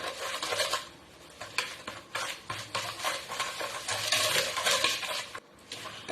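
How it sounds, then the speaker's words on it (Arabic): A hand whisk beats French madeleine batter in a bowl, a fast continuous scraping and clicking of wire against the sides that runs almost without pause, close and fairly loud, with no voices. "بالفوي، نخلطو حتى وين لو ميلونج تاعنا يبيض"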